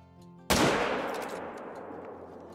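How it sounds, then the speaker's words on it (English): A single loud rifle shot from a hunting game in the wild cracks out suddenly, then its echo rolls away and decays slowly over the next two seconds, with quiet ambient game sound before it. "I just shot him with the wrong gun"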